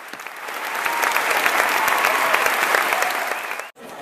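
Loud, close applause from a concert audience greets a mass choir at the end of the performance, dense crackling claps rising quickly, holding strong, then cutting off abruptly near the end before resuming faintly.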